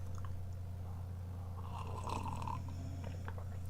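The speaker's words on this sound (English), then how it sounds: "The dog is snoring." A dog snores indoors as a low, steady rasp that continues throughout, close and fairly quiet over a constant background hum, with no talking.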